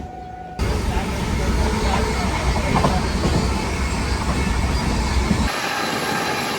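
A passenger train runs on the outer approach to Guntakal junction, a loud steady rumble of wheels and carriage noise that cuts in suddenly and holds with faint clatter before dropping off near the end.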